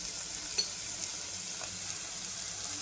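Bitter gourd frying with onion in a pan, a soft continuous sizzle with a couple of tiny pops, fairly quiet and close, no voices.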